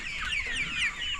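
Improved Kienyeji chicks cluck and peep constantly in a poultry house, a dense chorus of high chirping calls from many birds kept together, steady and fairly close with no talk.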